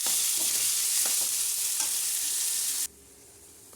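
Sliced onions frying in a pan for paneer curry, a steady close, loud sizzle with occasional stirring scrapes that cuts off abruptly near the end.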